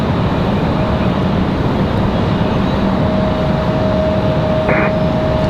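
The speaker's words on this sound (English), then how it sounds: "I believe this is a Cessna Grand Caravan coming in for UPS." A UPS Cessna Grand Caravan turboprop arrives at Raleigh-Durham airport, a loud continuous engine drone with a faint steady whine running through it.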